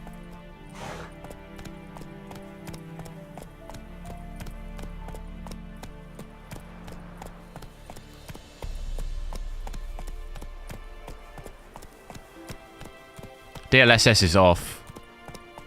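Roach the horse gallops in The Witcher 3 with a rhythmic clip-clop of hooves under game sounds, while a voice speaks briefly and a sharp burst of noise comes late.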